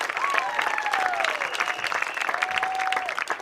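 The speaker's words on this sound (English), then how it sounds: "Let's give a big round of applause" Applause from the crowd at a Grundy Center versus Nashua-Plainfield high school sports event, dense steady clapping heard throughout, with voices and whistle-like tones mixed in.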